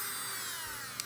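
MelodySusie eFile electric nail drill spinning at 30,000 RPM, a steady high-pitched whine that stays even and loud for about a second.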